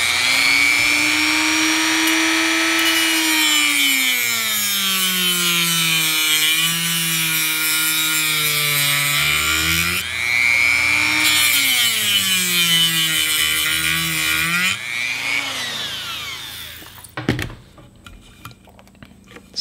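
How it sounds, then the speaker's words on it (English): A small saw cuts a one-hole-wide strip off a perforated circuit board with steady back-and-forth rasping strokes that rise and fall in pitch, close up, pausing briefly twice before a final few clicks. "So I'm gonna cut all the way down this first strip here and just make a one hole wide strip"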